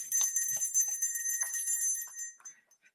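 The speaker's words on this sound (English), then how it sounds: "I kind of like this bell." Salvation Army hand bell rung outdoors at a Christmas collection, bright metallic ringing in quick uneven strokes that trail off, fairly faint with no talking.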